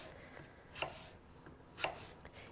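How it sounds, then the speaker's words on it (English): A knife cuts through unpeeled crisp apples on a board with two sharp, quiet slicing thuds about a second apart, and faint lighter taps between them. "So I'm just going to slice them."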